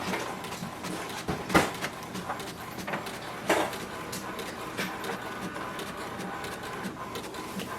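An HP DeskJet 2955 inkjet printer copies a page, running steadily with a continuous mechanical whir, punctuated by a couple of sharper clunks as the page moves through.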